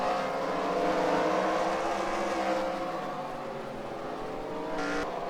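Race cars at the Bowman Gray short track in a sim racing game roar steadily with layered engine drones, rising and falling slightly as they circle, fairly loud and with no talk.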